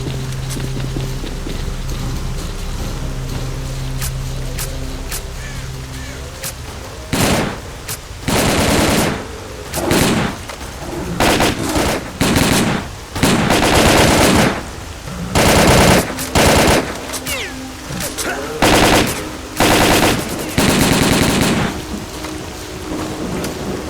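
Heavy gunfire erupts in STALKER Call of Pripyat, with rapid automatic bursts and loud shots repeating in clustered volleys over a steady rumbling background, close and intense, the firing growing denser in the second half.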